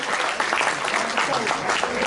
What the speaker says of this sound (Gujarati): દોસ્તો, આપણે એક સાથે એમને તાળીઓથી વધાવીશું.